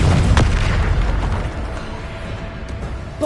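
A loud blasting boom from the Bombarda spell bursts at the start, then a rumbling, fading roar trails off for several seconds.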